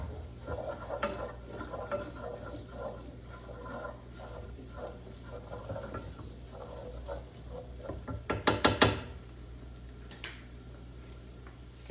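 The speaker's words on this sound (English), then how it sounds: "Going to stir that in that oil, let that cook until it becomes translucent." Chopped onions fry in oil in a pan, a steady soft sizzle with irregular scraping and stirring strokes, close up, and a brief louder clatter of the utensil against the pan near the end.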